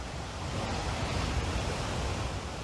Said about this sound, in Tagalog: Tubig na may halong lahar ang bumabagsak sa Bahi-Bahi Falls sa bayan ng La Castellana sa Negros Occidental